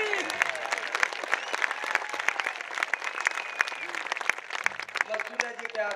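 An audience at a political gathering breaks into sustained, dense applause with many hands clapping at once, loud and steady throughout, while a voice carries on over the clapping.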